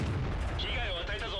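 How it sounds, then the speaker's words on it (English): Tiger I heavy tank cannon firing in World of Tanks, a single heavy deep boom that rolls on with rumbling reverberation, loud and close. "You don't normally fire these things on the move anyway"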